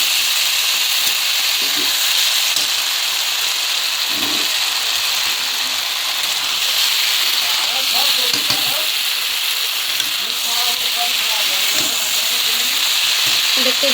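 Chunks of bottle gourd are sautéed with turmeric and other spices in a pan, producing a loud, continuous sizzle with occasional stirring and scraping sounds. No voice is heard.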